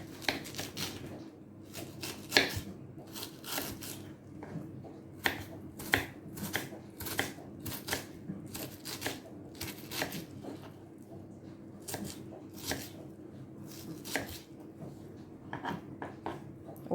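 A knife slices through an onion on a cutting board in a steady series of crisp taps and cuts, close and fairly quiet, with no talking.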